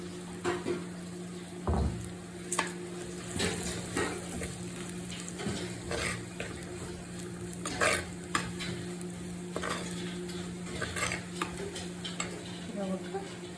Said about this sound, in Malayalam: ഇനി ഇത് നമുക്ക് വാട്ടിയ ഉള്ളിയിലേക്ക് ഇട്ട് കൊടുത്തിട്ട് നല്ലപോലെ ഒന്ന് ഇളക്കി